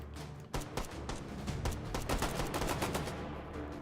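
Sustained rapid gunfire in the VR shooter H3VR, a dense string of sharp shots loaded with AP incendiary white-tip rounds, fired continuously close up with a few louder cracks standing out.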